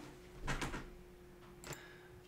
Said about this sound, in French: j'ai cru qu'on avait frappé à la porte, mais c'est le chat.